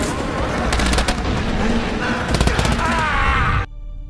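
Gunfire in a film flashback as an enemy shoots down a whole team: loud rapid bursts of automatic shots in two clusters over a dense roaring bed, cutting off abruptly near the end.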